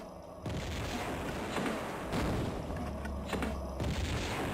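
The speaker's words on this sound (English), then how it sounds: "We just totally blew him up." A grenade blows up in a game, heard as a heavy booming blast with a long rumbling tail over constant background noise, and a second, smaller burst comes near the end.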